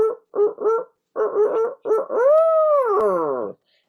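A man imitates an owl with his voice: a few short clipped hoots, then a long, swelling hoot that bends upward and falls away, close and loud with no other sound behind it.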